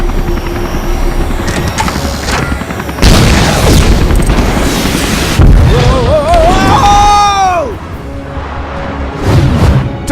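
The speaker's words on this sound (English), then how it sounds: "I'm reading an incoming ship. Watch out! It's about to open fire!" An incoming ship opens fire in Lego Marvel Super Heroes, with loud booming shots and blasts over a steady engine drone, plus whooshing and falling whistle-like tones in the middle before the noise eases off.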